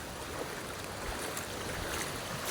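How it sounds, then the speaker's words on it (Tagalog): Heavy rain pours steadily during a walk through floodwater, a constant broadband wash of noise with no voices. "Lakas po ng ulan."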